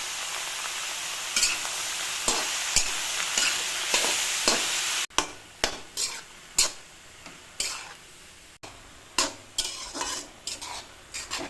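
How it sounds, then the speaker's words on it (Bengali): Ash gourd pieces fry in a pan with salt and turmeric, a constant sizzle broken by about a dozen sharp spatula scrapes and stirring strokes at a fairly even rhythm. "চাল কুমড়ো ভাজা হতে হতে"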